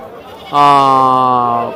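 A goat bleats once, loud and close, a single sustained wavering call of about a second at a sheep and goat market in Gudur, over a low background murmur.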